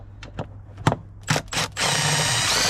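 A few short clicks and bumps, then a steady whirring power tool spinning out small 10mm bolts on an L405 Range Rover amplifier replacement, close and loud, running continuously to the end.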